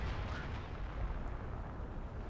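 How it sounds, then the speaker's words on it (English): Light artillery barrage in Company of Heroes 2, a continuous dense rumble of distant shell impacts blending into one another with no clear gaps. "There's like a light artillery barrage hitting this whole area."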